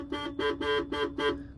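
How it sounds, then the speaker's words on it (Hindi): A Maruti Alto K10's horn honks five times in quick, evenly spaced bursts, loud and close amid heavy Indian traffic, with steady road noise underneath. "ये देखो भाई, इस हॉर्न की बात कर रहा था मैं,"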